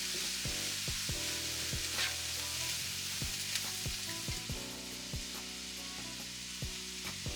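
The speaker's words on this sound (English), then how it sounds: "I give that a quick little stir just to get everything settled in" Cabbage sizzles quietly in a pan while a utensil stirs it, with repeated clicks and scrapes against the pan over the steady frying hiss.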